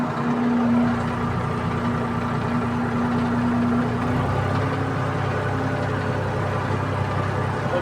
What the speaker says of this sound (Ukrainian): У мене так оберти двигуна десь на, на 15 доходить.